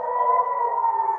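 Air raid sirens sound across Iran during an attack, a steady sustained wail holding a level pitch throughout, loud and continuous with no voices over it.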